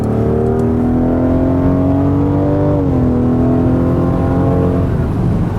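A 650-horsepower Rolls-Royce accelerating hard at full throttle, its engine note loud and close, rising steadily in pitch, dipping briefly as it shifts gear, then climbing again with no talk over it.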